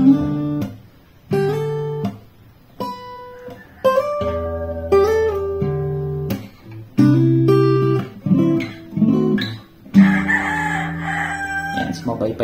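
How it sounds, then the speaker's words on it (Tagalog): Chickens crow and cluck in the background behind acoustic guitar notes being played, with several drawn-out crows and short clucks rising between the picked phrases. "pagpasensya nyo na yung mga background noises ng mga manok"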